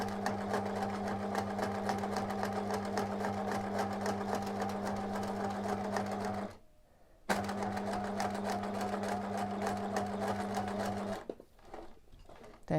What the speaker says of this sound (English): I'm sewing up to the top, all the time referencing the quilting bar on the old line of stitching that I just did.